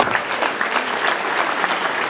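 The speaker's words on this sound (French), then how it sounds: "Donc pour ça, applaudissements." Crowd applause at the Corso Fleuri du Lavandou 2018 flower parade, a dense, steady patter of many hands clapping at once, close and sustained for a couple of seconds.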